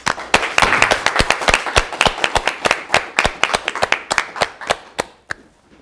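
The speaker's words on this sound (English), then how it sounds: "Ladies and gentlemen, help me to give Boti a well-deserved warm applause." Applause at a virtual gala show comes from a few close hands clapping in loud, distinct sharp claps that are fairly rhythmic, then it thins out and stops near the end.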